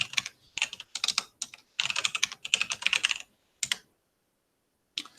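A command is typed on a computer keyboard in quick bursts of close, crisp key clicks, followed by a pause and a final lone tap, with no voices.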